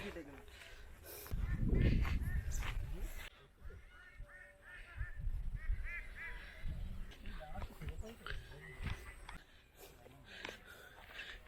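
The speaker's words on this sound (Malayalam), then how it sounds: "കുറേ താറാവ് വെള്ളത്തിൽ കിടപ്പുണ്ട് കേട്ടോ" Ducks resting on flooded paddy-field water in Kerala give off a few honks and quacks, some fairly close, while people talk over and around them.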